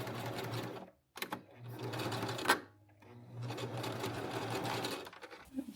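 A sewing machine stitching a seam within the seam allowance, running in steady whirring bursts separated by short pauses, close and moderately loud.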